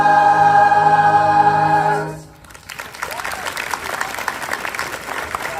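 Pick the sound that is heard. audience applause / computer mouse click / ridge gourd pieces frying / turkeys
audience applause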